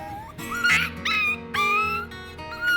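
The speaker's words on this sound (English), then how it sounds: "Despite the yelp, Peya is tougher than she looks" A sick puppy recovering from a viral or bacterial illness yelps and whimpers in several sharp, high, close bursts with brief pauses between them.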